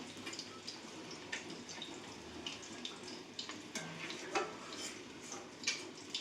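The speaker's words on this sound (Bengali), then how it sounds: "জলটাকে দিয়ে দেবো মানে ওই যে মিক্সার ধোয়া জলটা" Water used to rinse a mixer jar being poured out in a home kitchen, a faint, close trickle with irregular splashes and drips running steadily throughout.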